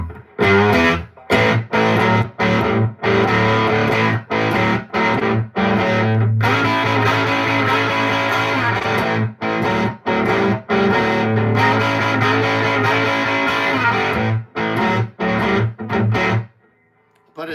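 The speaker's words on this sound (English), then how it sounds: "Frankie, the overdrive tone that I use is purely from the amp" Electric guitar overdriven purely by the amp, with no pedals and the amp's onboard reverb switched off, playing loud, dense distorted riffs broken by short stops, with no talking.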